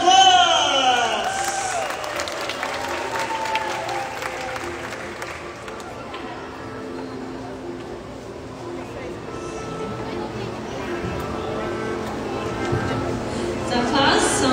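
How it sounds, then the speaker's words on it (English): Applause and crowd noise from an audience at a UUU Orchestra Project final concert, steady dense clapping filling the room for the whole stretch, with cheering and voices mixed in. "let us give them a round of applause"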